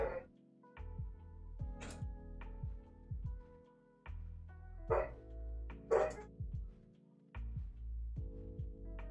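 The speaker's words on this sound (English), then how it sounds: "What was that noise? Probably my dog." Several short dog barks, faint and somewhat distant, scattered over a quiet background of soft tonal sounds from the video game Wild Horse Islands.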